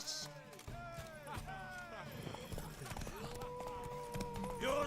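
Horse hooves clip-clopping in a race within The Witcher 3: Wild Hunt, a steady galloping rhythm running throughout with game music and effects layered over it, and a person talking across much of it.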